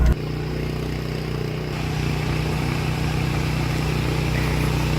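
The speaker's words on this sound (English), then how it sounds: "This engine's still running and it's charging" An engine runs to charge a Tesla, giving a loud, steady, close-up drone with a low rumbling hum and a faint mechanical clatter, unbroken throughout.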